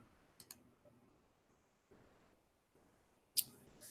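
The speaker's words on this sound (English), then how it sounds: "Click on the login button." Faint, close computer mouse clicks on a login button in a quiet room, a couple of soft taps early, then one sharper click near the end.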